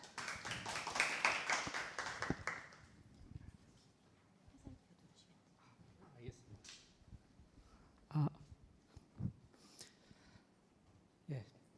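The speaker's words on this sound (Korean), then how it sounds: "큰 박수 부탁드립니다" Applause at a climate-tech startup pitch event swells briefly at the start, then fades into scattered claps and taps in a quiet hall, with a few isolated louder claps and some faint noises later.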